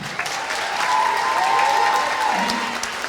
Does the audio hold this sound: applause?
yes